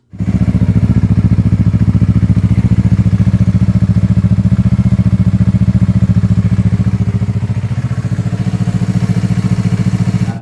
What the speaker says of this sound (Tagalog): ganito katahimik yung ating exhaust